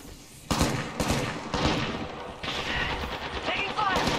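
Rapid gunfire in Apex Legends during a Caustic match, several loud bursts and single shots in quick succession, with a voice speaking over the fight.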